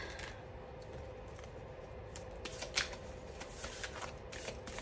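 A deck of oracle cards is shuffled by hand close to the microphone, giving soft papery riffles and light flutters over a few seconds against a quiet indoor background, with no one talking.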